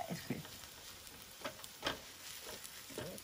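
Okonomiyaki batter sizzles faintly on a tabletop hot plate, a soft crackling hiss with occasional pops and scraping stirs.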